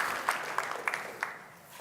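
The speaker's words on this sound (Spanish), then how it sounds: "Dale ese fuerte aplauso al Señor." Church congregation applauding, a soft steady patter of many hands with a few sharper claps standing out, moderately distant and fading slightly toward the end.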